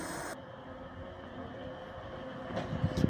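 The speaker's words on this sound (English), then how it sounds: "And here's my Trans-Pennine Express, which is going to take me to Dewsbury." A TransPennine Express train pulls into Manchester Oxford Road, giving a steady low rumble and hum of rolling stock that swells slightly with a few clanks near the end.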